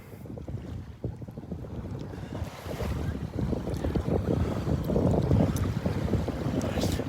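Strong wind gusts buffet the microphone on a Florida beach at Delnor-Wiggins, a loud rumbling roar that swells and drops, with surf washing underneath.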